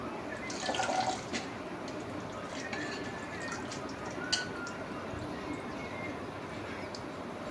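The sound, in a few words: washing leafy greens under running water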